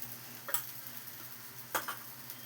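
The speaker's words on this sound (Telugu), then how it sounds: "చుట్టూ ఆయిల్ వేయాలి." Oil drizzled around a jowar roti on a hot griddle, a faint quiet sizzle with two short crackling bursts.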